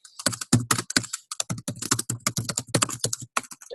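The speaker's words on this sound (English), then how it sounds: "Now begins the fun of typing in front of other people." Rapid, continuous clatter of keys on a computer keyboard, close and fairly loud, with irregular bursts of keystrokes and brief pauses.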